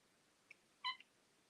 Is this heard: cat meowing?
yes